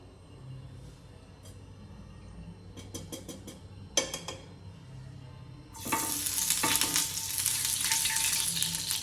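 Rava appam batter sizzles on a hot iron griddle, a loud, dense frying hiss that starts partway through and holds steady to the end, after a few earlier clicks and clattering kitchen knocks.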